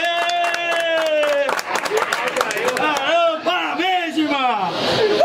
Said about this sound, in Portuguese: Palmas pro homem aí, ó.